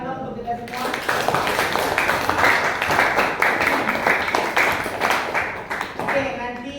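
A classroom of students gives a round of applause at the end of a lesson, dense overlapping claps sustained throughout at a steady level, with some voices mixed in.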